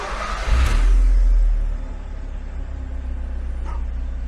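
A Mitsubishi-engined Smart Brabus ForFour on a dyno gives a brief loud rev with a deep rumble, then drops back to a steady low drone of the running car and rollers.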